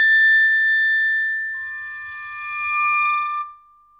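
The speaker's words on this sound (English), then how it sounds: "a fairly common sound you might hear is these bow sounds" Bowed metal percussion from a Spitfire Audio Kontakt library: sustained, glassy ringing tones hold steady. A second high pitch enters partway through, then both fade out near the end with no talking.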